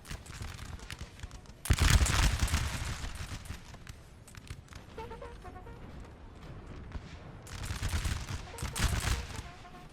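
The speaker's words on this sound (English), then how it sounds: "Nice volleys by Bavaria" Rolling musket volleys crackle across a Napoleonic Total War 3 battlefield, with a sharp loud volley early, a quieter rumble of distant firing through the middle, and another heavy burst near the end.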